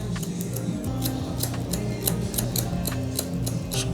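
Scissors snip rapidly and steadily through hair during a low taper brush-back barber haircut, a crisp close-up run of cuts over a low background hum.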